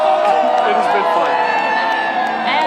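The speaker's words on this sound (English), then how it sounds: "And they're cheering right now." A parade crowd cheers the Stanley Cup champion Carolina Hurricanes, with loud, sustained whooping and shouting from many voices packed close around.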